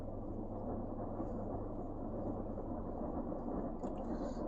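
Thunder from a passing lightning storm rolls as a steady, heavy low rumble outdoors, filling the whole stretch with no clear break.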